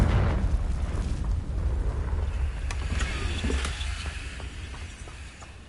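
A Confringo fire spell bursts in the Hogwarts Legacy video game, a dense, sustained roaring rumble with low booming weight and scattered crackling pops, loud throughout and slowly easing toward the end.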